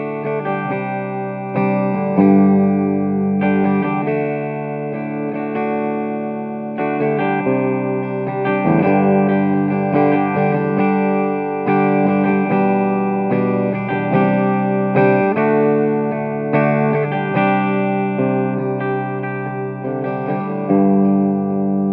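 Electric guitar, a Gibson R9 Custom Shop Les Paul played through an Orange amp with a rich, lingering reverb, chords and notes ringing steadily and fairly loud throughout, no voices.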